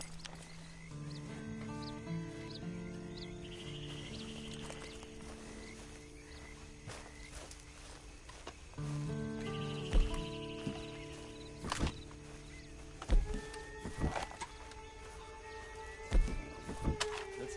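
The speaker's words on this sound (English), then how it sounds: "Then you better get on this horse." Horse hooves clip-clop in a Red Dead Online scene over layered tonal music, with a few sharp thuds and snorts rising near the end.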